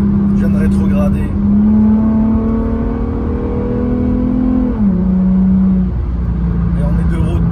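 An Infiniti with a V6 engine revs up after a downshift while driving on the road, a steady, rising engine drone that holds, then drops in pitch as the gear changes, loud and close inside the cabin.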